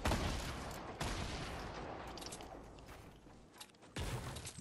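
Rapid bursts of gunfire in the video game Fortnite rattle through a dense, noisy battle mix, with sharp onsets near the start and again near the end.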